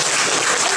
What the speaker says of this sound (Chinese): 我们给学宝金一个掌声。